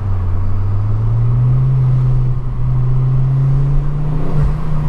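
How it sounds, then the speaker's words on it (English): A Ford Focus RS Mk2 engine in second gear hums with a steady low drone that rises slightly in pitch as it builds, close and loud throughout. "see if you can hear the symphony that comes from the back of this car"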